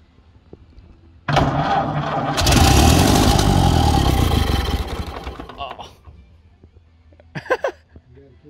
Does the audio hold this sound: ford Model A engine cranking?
yes